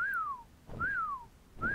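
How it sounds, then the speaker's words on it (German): Repeated synthetic whistles from steering a Tapejara as a passenger in Ark: Survival Evolved, three falling whistle tones in even succession with soft thumps between them. "muss ich natürlich den Tapiara als Passagier steuern. Deswegen diese Pfeifgeräusche."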